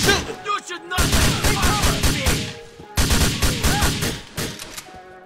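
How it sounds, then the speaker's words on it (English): Gunfire in the Grand Theft Auto IV video game rattles out in quick, loud volleys, two dense bursts of shots separated by a short lull with ringing tails. "Are you still shooting?"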